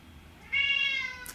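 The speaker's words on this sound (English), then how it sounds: "Ignore the cat." A cat meows once at a door, a single drawn-out, close, fairly loud meow over quiet room tone, with no talking.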